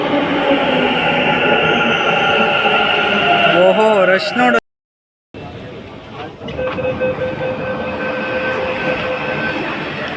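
A crowded metro train at National College station in Bengaluru pulls in and runs on with a loud, steady rumble and faint squealing of wheels, broken by a brief dropout, while people talk nearby in a festival-day rush.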